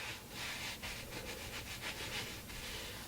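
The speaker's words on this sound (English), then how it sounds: "you use it to scrub off the ink" Rubber stamp scrubbed clean of ink with stamp cleaner on a scrubber pad gives a continuous close, raspy rubbing with quick back-and-forth strokes, heard alone.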